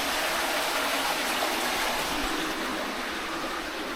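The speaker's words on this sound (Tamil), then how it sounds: "அந்த தண்ணி சவுண்டிங்க தான் கேட்குது." Water flows inside the Kali cave temple, a dense, steady rushing hiss like a stream or small fall, close and continuous with no voices over it.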